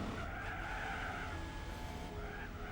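Car tires skidding and squealing under hard braking in the racing game Gran Turismo 4, a steady high screech lasting the whole moment over a low engine rumble, with no talk.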